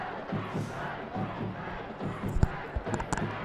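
Crowd at a high school football playoff game makes a distant, rising roar with rhythmic chanting and shouts, a rumbling mass of voices heard from afar.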